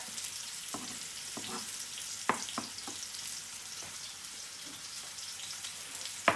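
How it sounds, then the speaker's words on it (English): Onions sizzle steadily in hot olive oil with a crackling hiss, punctuated by occasional clinks and scrapes nearby; no talking. "I'm going to add the onions straight in. They're going to start sizzling."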